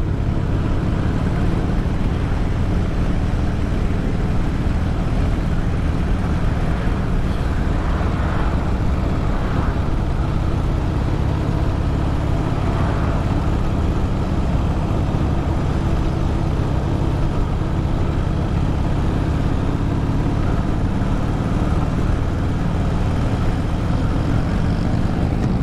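A Harley-Davidson motorcycle rides along the Bandeirantes highway in a convoy, giving a steady, dense engine rumble mixed with wind and road roar that stays loud and constant throughout.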